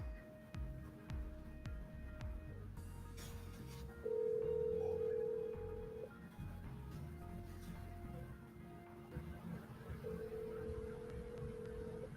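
A phone call rings through toward voicemail, with steady electronic tones and a sustained beep over a constant low background hum, fairly faint and with no speech.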